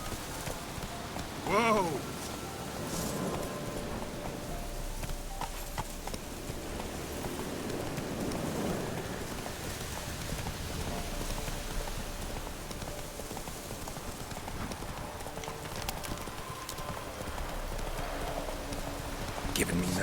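Hoofbeats of Roach, the horse in The Witcher 3 video game, galloping steadily in a continuous clip-clop with a faint rain-like patter, while someone speaks over it and shouts once near the start.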